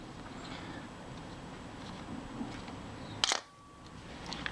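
A Mamiya Family SLR camera shutter fires once at 1/250 second during a service, a single sharp close mechanical snap against a quiet room.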